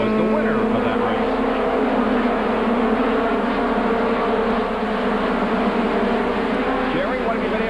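Goody's Dash series race cars circle Bristol Motor Speedway in a 1994 race, their engines a loud, continuous buzzing drone with shifting pitch as the pack passes, and commentator speech runs over the top.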